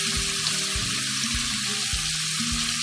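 Chopped tomatoes fry in a pan with a continuous hissing sizzle, broken by a few regular soft thumps and scrapes of stirring.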